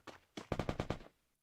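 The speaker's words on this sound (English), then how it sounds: "I'm already hearing some fire," A short burst of video game gunfire, about seven rapid shots, the first two spaced apart and the rest in a quick run, heard faintly at a distance.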